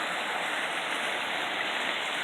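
Steady rushing roar of a small waterfall tumbling down a hillside beside a campsite in Mendocino National Forest, close and continuous with no breaks.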